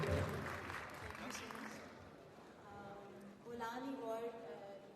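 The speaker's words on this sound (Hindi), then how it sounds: "एक जोरदार ताली की आवाज होनी चाहिए शबनम के लिए।" Audience applause at the 2021 Bolan Awards film ceremony in Pakistan, loud at first and quickly fading as a voice begins speaking over the room.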